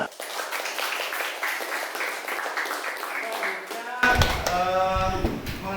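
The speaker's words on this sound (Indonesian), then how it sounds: "Tuh, tepuk tangan." A class at UIN Sunan Ampel Surabaya claps together for about four seconds, a busy patter of many hands, before the clapping stops and voices begin talking.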